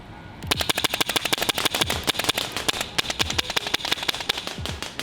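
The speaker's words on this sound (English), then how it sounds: "now I'm gonna go ahead and shoot on the plate" An MTW Forged Series airsoft rifle fires rapid single shots at a steel plate: a quick string of sharp snaps with metallic pings ringing after, close and loud, in a fast irregular rhythm.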